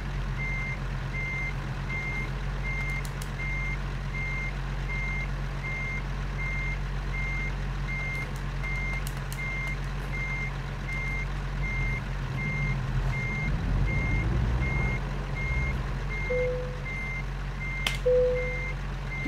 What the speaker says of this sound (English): I don't know what that beeping is.